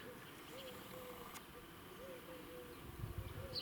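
Among grapevines, a small insect buzzes faintly in short, wavering bursts close to the microphone, over a steady outdoor background hiss.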